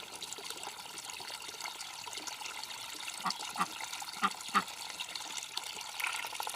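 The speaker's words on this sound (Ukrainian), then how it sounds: "Кроликам наливає свіжу водичку, щоб пили." Fresh water poured out for rabbits in a village yard: a steady splashing gush runs throughout, with a few louder knocks and splashes toward the middle.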